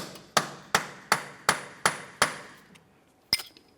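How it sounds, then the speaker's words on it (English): Six evenly spaced sharp metallic hammer strikes on a punch set in the center of a 2006-2011 Honda Civic CV axle, freeing it from the wheel bearing, then a pause and one final hit, close and crisp with no talking. "continue on with a hammer and punch"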